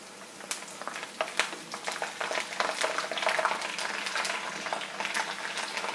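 Ginger and garlic fry in slow-flame oil for a sour and spicy cut mango pickle, giving a steady bubbling crackle with scattered sharp pops that grows a little busier partway through; no one speaks.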